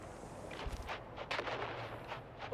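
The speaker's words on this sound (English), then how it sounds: "On three, we grenade and move. 3, 2, grenades out!" Grenades go off in the Dune video game, a few muffled booms and crackling blasts in quick succession, fairly faint and distant-sounding.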